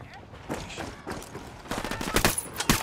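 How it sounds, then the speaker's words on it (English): Gunfire in the video game Ghost Recon Wildlands: scattered shots at first, then a louder cluster of sharp bursts near the end, with faint movement noise between volleys. "I'm opening fire."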